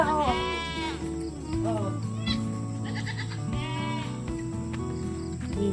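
A goat that has just given birth on a farm bleats several times, loud and close, with wavering, drawn-out cries separated by short pauses over faint insect chirping, and a voice briefly exclaims once.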